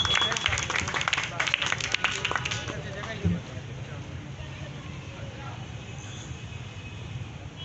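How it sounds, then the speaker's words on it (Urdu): Applause and clapping break out for a poet at a Multan poetry gathering, a dense burst of many hands for about three seconds that fades into murmuring crowd noise. "نوازش بھائی کے لیے بہت ساری تالیاں"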